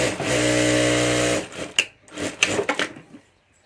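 A sewing machine runs steadily for about a second and a half, stitching a second zipper onto a homemade multi-pocket ladies' handbag, then stops, followed by soft handling clicks and rustles of fabric.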